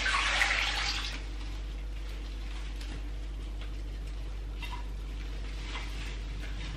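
A kitchen tap runs fresh water, likely into a vase for cut flowers, a hissing spray that is loudest at the start, then settles into a steady, softer stream with faint clinks.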